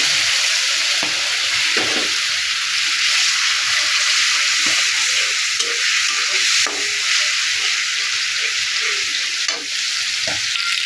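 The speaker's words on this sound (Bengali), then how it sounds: "অল্প একটু পানি দিয়ে মশলাটা কষিয়ে নেব" Spice paste with turmeric and coriander powder fries in a pan with a little water, giving a loud, continuous sizzle and hiss with occasional stirring scrapes.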